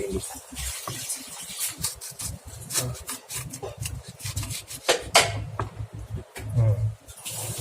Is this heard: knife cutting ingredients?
yes